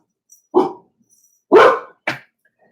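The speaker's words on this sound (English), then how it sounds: "And here go the puppies." Puppies bark three times in quick succession, close and loud, with short yelping calls separated by brief silences and no other sound between them.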